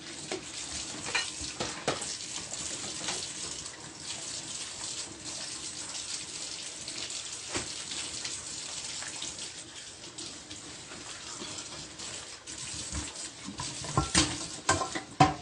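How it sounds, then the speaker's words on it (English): Steady hissing sizzle of chicken frying in a pan, with occasional scrapes and clinks over a constant noisy wash of sound. "I'm also looking at my chicken to make sure that it's not burning while frying"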